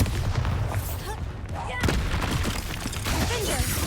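Bombarda explosive spell blasts in the Hogwarts Legacy video game, a busy run of booming impacts and crackling bursts amid continuous combat noise, with a voice speaking over the fray.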